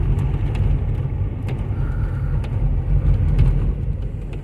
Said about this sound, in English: you can drive through the water and wash your windshield